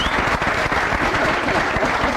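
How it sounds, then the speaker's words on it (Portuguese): Dense audience applause at a gathering, many people clapping together in a continuous, fairly loud burst with no distinct speech. "Uma salva de palmas para o Ricardo."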